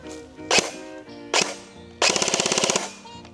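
An inexpensive gun, compared to an AUG, fires two single shots, then a rapid full-auto burst of about a dozen rounds with crisp, evenly spaced reports, close and loud over a quiet background.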